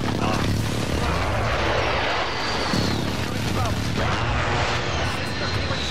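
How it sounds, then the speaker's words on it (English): Airstrike explosions in a military shooter video game, a dense roar of blasts and gunfire rumbling continuously and loudly, with game voice lines over the din. "Allied precision airstrike in."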